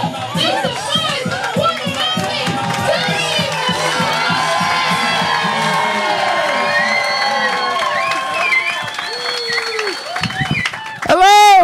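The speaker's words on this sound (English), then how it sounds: "I want you to whoop, jump, cheer, make some noise" Comedy tour show audience in a venue cheers, whoops and shouts loudly in a sustained, dense roar of many voices, close and continuous, rising to a burst of louder yells at the very end.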